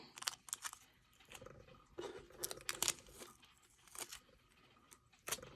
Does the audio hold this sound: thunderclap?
no